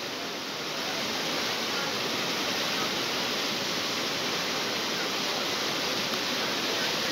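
Floodwater from a storm rushing through a narrowed street channel near a riverside, a steady, loud, broadband roar of churning water with no breaks.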